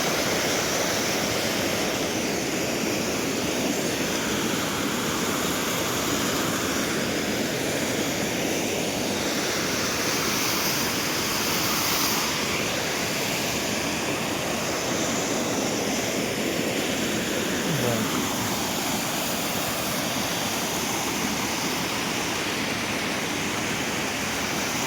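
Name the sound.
Panchghagh waterfall in Jharkhand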